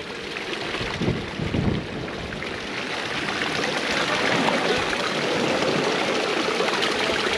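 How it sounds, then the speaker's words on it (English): Water from a small waterfall splashes and trickles steadily on a coastal stretch between Walpole and Albany in Western Australia, a close continuous gurgling rush that grows slightly louder midway, with no talking. "Nice little waterfall here."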